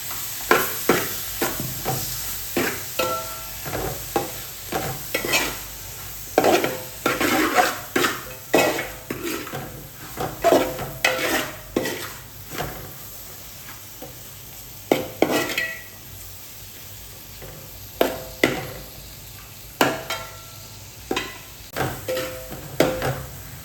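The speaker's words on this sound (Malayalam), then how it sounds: "ഇതെല്ലാം കൂടി ചെറുതായിട്ടൊന്ന് വഴറ്റിയിട്ടുണ്ട് കേട്ടോ" Ingredients sautéing in oil for a tilapia curry, with a spoon repeatedly scraping and clanking against the pan in a steady, irregular rhythm over a faint sizzle.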